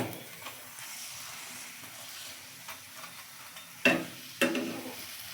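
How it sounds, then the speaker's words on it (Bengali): Whole-wheat atta paratha frying in oil in a pan gives a soft, steady sizzle, broken near the end by two sharper bursts of crackling spatter. "আজকে আটার পরোটা ভাজলাম"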